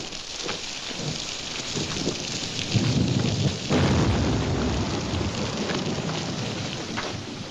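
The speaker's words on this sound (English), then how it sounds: "Can't see nothing in this rain." Heavy rain pours down steadily in a western film scene set among Florida cowboys, a dense wide hiss that swells louder midway with low rumbling underneath, no voices.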